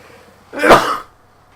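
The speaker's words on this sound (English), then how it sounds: "Real sneeze coming on." A single sharp human sneeze, close and loud, bursting out after a brief quiet build-up and ending in under half a second.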